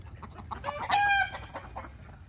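Backyard chickens cluck close by in a short burst, one hen letting out a louder drawn-out squawk in the middle, with faint low rustling beneath.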